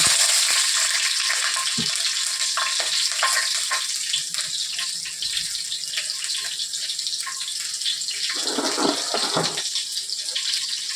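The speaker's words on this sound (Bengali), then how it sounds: "এর মধ্যে কালো জিরে ফোড়ন দেব।" Black cumin seeds and green chillies sizzle in hot oil in a pan, a steady bright crackling hiss with occasional pops and spatters, close and continuous.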